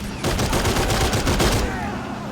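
Sustained burst of machine gun fire in a Men of War 2 battle, a dense rapid rattle of shots for about a second and a half, loud and close, trailing into rumbling background noise.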